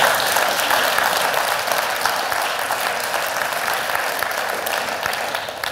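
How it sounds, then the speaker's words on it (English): A church congregation clapping, sustained dense applause from many hands at steady loudness that tapers slightly at the end, with no speech over it. "Let's give the Lord a clap offering."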